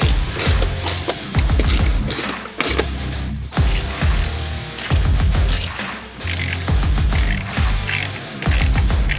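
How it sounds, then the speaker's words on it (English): Screws are fastened back into the bumper of a wrecked Corvette C7 Stingray with a ratchet, which clicks loudly and nearby in repeated runs with brief pauses between them. "I'm just gonna start getting these screws put back in"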